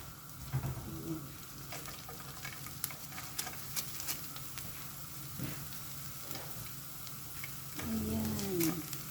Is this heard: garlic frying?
yes